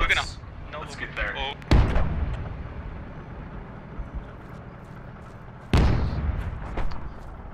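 Video game battle with gunfire and explosions: two sharp, loud blasts stand out, one early and one late, over a steady rumble of distant combat, while someone talks over the action.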